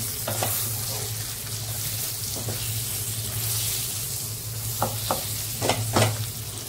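A spoon scrapes and stirs green chillies frying in a pan for mirchi fry, with a steady background sizzle broken by several sharp, separate stirring strokes close by.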